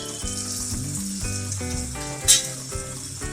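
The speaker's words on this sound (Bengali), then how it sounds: "এবার এটি আমি ভালোভাবে ভেজে নেব।" Prawn thokku masala with tomatoes frying in a pan gives a steady sizzle under background music, with one brief louder hiss near the end.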